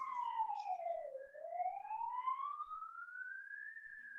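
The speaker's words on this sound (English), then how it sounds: "That's the fire siren." A fire siren wails outdoors, its tone dipping then slowly rising in a long sweep, steady and moderately distant, with no talk over it.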